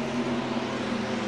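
A sim race car engine in a stock-car racing game runs rough after losing a cylinder, giving a steady, droning hum with strong low harmonics that holds evenly for the whole moment.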